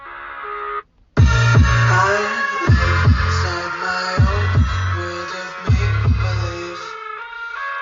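Music plays through the car stereo of a Toyota Innova Crysta petrol facelift, a loud track with a deep thumping bass beat and melodic layers, after a brief dropout near the start.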